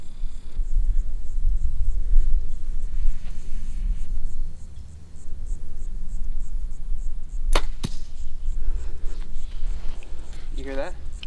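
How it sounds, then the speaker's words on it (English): Archery arrow, shot from a bow outdoors on a hot day, strikes another arrow already in the target with two sharp distant cracks over steady wind noise. "You hear that? Yeah. I hit the other arrow."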